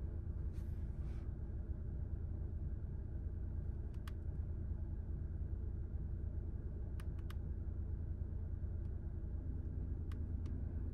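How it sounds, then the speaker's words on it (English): A car's engine idles steadily while warming up, a continuous low rumble heard from inside the vehicle with a few faint clicks on top and no talking. "my car done finished warming up"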